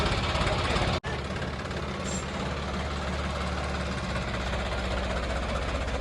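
A tractor engine runs with a loud, steady low rumble and throbbing drone, close by, with a brief dropout near the start.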